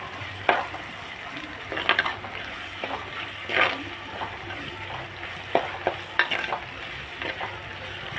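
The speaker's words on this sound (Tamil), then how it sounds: "வெங்காயம் நல்லா வதங்கட்டும்." Small onions sizzle and crackle in a hot pan while a utensil stirs and scrapes at intervals, steady and close, with no talking.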